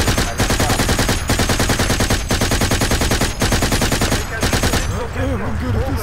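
Rapid video game gunfire rattles loudly in dense automatic bursts with brief pauses between them, then gives way near the end to scattered lighter sounds and a voice.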